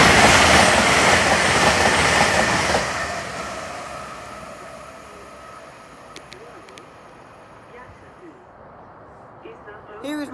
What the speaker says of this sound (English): Here is one of GWR's Class 800s passing through Highbridge Station